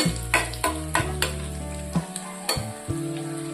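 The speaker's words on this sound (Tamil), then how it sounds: "வரமிளகாய் சேர்த்து நல்லா பொரிஞ்சிருச்சு" Dried red chilies crackle and sizzle in hot oil, with occasional stirring clatter, close and steady throughout.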